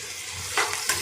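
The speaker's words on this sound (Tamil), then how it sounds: "எல்லாம் சேர்த்து நல்லா வதக்கி விடலாம்" Onions and cauliflower sizzling in hot oil, a constant frying hiss with a couple of brief stirring scrapes, no voices.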